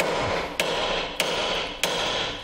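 Hammering on a Ford Transit Connect during a clutch replacement in a garage: three sharp metallic strikes at a steady rhythm, close and loud over a constant background hum.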